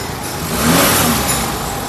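A black 2011 Toyota Etios G pulls away, its engine rising in a brief, close rev as it moves off. The motor note swells and settles over about two seconds, with no speech.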